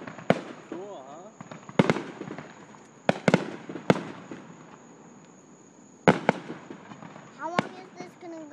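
Fourth of July fireworks burst in sharp, distant-sounding bangs at irregular intervals, some in quick pairs, under people talking and a constant high insect buzz.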